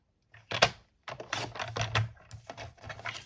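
White cardstock being trimmed down to size on a paper trimmer, a few close, crisp clicking and scraping bursts separated by brief pauses, with no speech.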